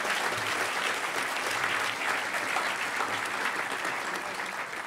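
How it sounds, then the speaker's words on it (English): Steady round of audience applause at a hacker conference closing ceremony, many hands clapping continuously at moderate distance with no talk over it. "a huge round of applause for Adam"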